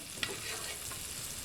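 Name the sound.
food browning and sizzling in a frying pan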